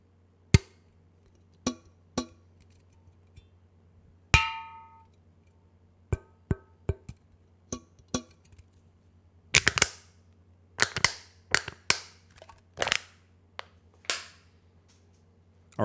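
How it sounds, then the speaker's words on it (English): Finger taps on a metal can recorded as beatbox samples: a series of sharp, isolated clicks and knocks with short decays, spaced irregularly in near silence, some bursts clustered in quick succession. "It was the first sound I made just by hitting the can with my finger"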